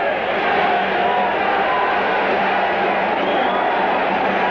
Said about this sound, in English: well, that's a pretty active crowd